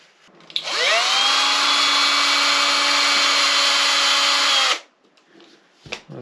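A power tool drives screws into parts of a Hobao Hyper 10TT, one steady whirring burst of about four seconds that spins up quickly, holds a loud pitch, then stops abruptly, followed by a faint knock.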